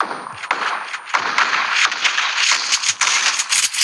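Dense, loud gunfire from PUBG Mobile, including pump-shotgun shots: rapid sharp cracks and rattling bursts over a constant, harsh battle din, with no voices.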